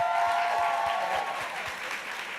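A studio interview audience claps steadily and fairly loudly for a couple of seconds, with no voices over it.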